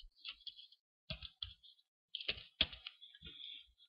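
Keys on a computer keyboard click in short bursts of typing separated by pauses, crisp and close.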